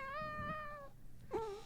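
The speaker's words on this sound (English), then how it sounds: "we're getting her to meow a little, which is cute." A pet emotional support kitty meows twice, a drawn-out meow followed by a shorter one after a brief pause, close and clear over quiet room sound.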